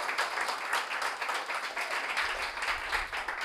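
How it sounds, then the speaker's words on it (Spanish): A crowd claps and applauds steadily for a few seconds, dense and lively, without voices over it. "Un aplauso con fuerza."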